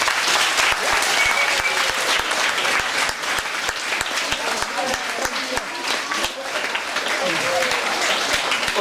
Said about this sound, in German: Die kriegen jetzt euren Applaus